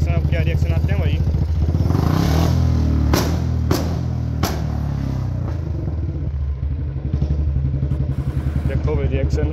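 A Royal Enfield Bullet 350 thumps loudly close by with a steady single-cylinder beat, revving up and down, and a few sharp firecracker-like pops bursting from the exhaust partway through.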